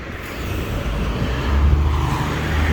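A line 10 bus from Hulst bus station rolls past on a village road in Vogelwaarde, its steady engine and tyre noise swelling slightly as it nears, with no talking.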